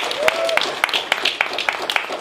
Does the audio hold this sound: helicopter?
no